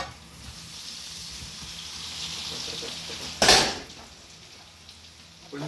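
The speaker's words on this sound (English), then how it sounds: "By putting it in the pan with really hot fat, you're sealing the potatoes straight away." Potatoes dropped into really hot fat in a roasting pan from a 200-degree oven, a soft ongoing sizzle swelling into one loud, sharp burst of spitting before settling back, heard up close without speech.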